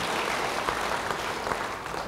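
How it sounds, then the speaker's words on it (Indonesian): Church congregation applauding during a sermon, a steady dense patter of many hands at moderate distance, fairly even throughout with no voices over it. "beri tepuk tangan bagi Tuhan"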